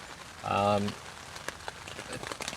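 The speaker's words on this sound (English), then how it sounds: "The rain has finally come." Rain falling on a tent during a late spring camp in an urban woodland, a steady patter of drops with scattered louder taps, briefly masked by a short voiced sound early on.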